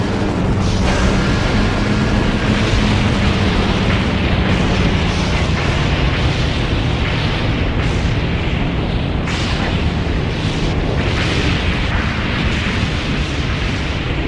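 Explosions destroy gun turrets in Reign of Fire, a loud sustained rumble of blasts with sharper bursts breaking through near the end, with no voices.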